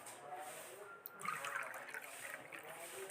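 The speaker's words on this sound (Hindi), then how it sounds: "पानी डालते हैं।" Water is poured into a glass tumbler, a soft trickling, splashing flow that rises slightly in the middle, faint and close with a low background hiss.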